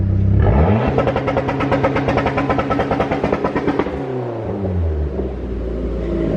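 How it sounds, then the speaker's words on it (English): A Nissan 300ZX Z32 that sat for two years, fitted with an SRT4 setup, bangs hard against its 2-step launch limiter. The engine gives a loud, rapid, stuttering rev and then drops back to a deep idle rumble. "Jamie's gonna give us a 2-step"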